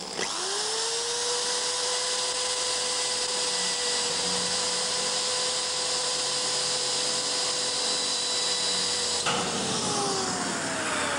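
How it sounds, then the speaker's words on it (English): A cheap power screwdriver driving ordinary self-tapping screws into a Robin Hood kit car body, running with a steady high whine for about nine seconds before its pitch falls away as it winds down, close and loud. "we're just going to put a couple of ordinary self-tapping screws in here."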